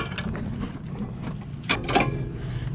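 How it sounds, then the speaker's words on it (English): A hand ratchet tightens the sway bar end links on a car, giving a short run of quick metallic clicks, close and fairly quiet, ending in a couple of firmer strokes. "tightening up the sway bar end links here is the last thing other than that tie rod"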